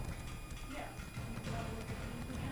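Horse hooves clip-clopping in The Elder Scrolls Online while riding up a mountain, a steady soft rhythm of hoofbeats under a constant low game ambience, moderately faint.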